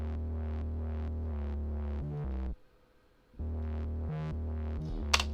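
A distorted synth bass built from a saw wave plus a sine wave with light FM, layered with a sub, plays loud sustained notes in a steady pulsing pattern, breaking off for a beat before resuming.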